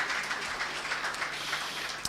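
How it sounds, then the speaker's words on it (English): Audience applause at an economic roundtable event, a steady wash of many hands clapping that holds evenly for the whole stretch at moderate level, without talk over it. "Round of applause, please."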